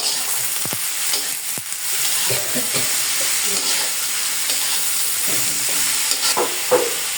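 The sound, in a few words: bitter gourd frying, stirred with salt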